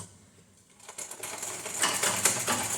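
A sewing machine stitching a blouse lining at a quarter-inch seam, starting quiet and building into a steady, fairly close mechanical whirr with brief bursts of rapid needle clatter.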